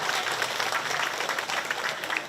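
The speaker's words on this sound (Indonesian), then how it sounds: "Tepuk tangan." Crowd at an official government ceremony in Jakarta clapping, a brief, dense burst of many hands applauding together, fairly loud and steady with slight swells.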